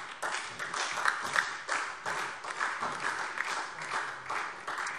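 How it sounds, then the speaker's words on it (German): Applause from members during a parliamentary plenary session, a sustained wash of many hands clapping at a moderate distance, evenly continuous throughout. "Applaus"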